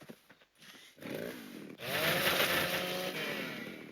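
A chainsaw in the video game Ark Primal Fear starts up after a few brief clicks and settles into a steady, buzzing cut at moderate level, alone without speech.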